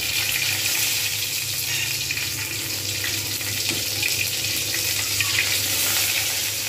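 Constant loud hiss and crackle of green chillies frying in hot oil, steady throughout with no talking.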